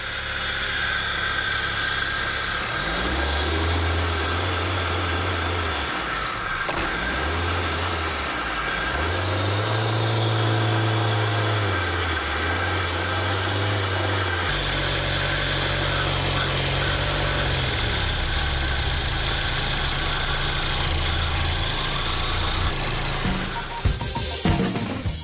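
A Fiat Mille engine runs with a steady high whine while its throttle body is cleaned, the pitch rising and dropping in several throttle swells before settling into an even hum.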